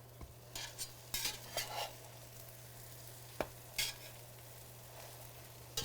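Croque madame sandwiches frying in butter in a pan give a soft, faint sizzle, broken by a few scraping spatula strokes and clacks as they are flipped over.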